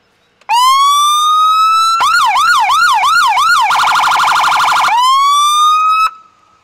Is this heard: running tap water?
no